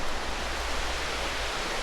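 Water rushes over a dam in a steady, dense roar of white noise, close and unbroken, with no voices over it.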